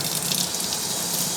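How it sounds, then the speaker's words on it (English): Hot water running from a tap while latex paint is washed out of clothes, a steady close gush of water pouring alone without speech. "Hot water."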